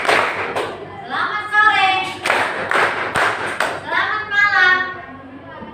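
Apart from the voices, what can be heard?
group clapping in rhythm during a classroom greeting game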